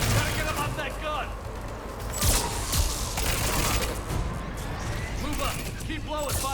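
Mounted gun firing in a Mass Effect 3 battle, bursts of gunfire and booms rolling through a noisy combat scene while voices talk over it.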